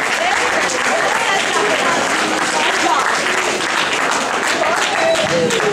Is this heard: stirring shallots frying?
no